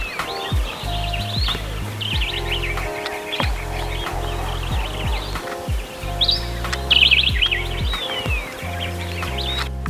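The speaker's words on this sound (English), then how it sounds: "That's a Cape glossy starling." A Cape glossy starling calls near a small water hole in the Eastern Cape bush, with repeated bright chirps and whistles over steady low droning tones from another source.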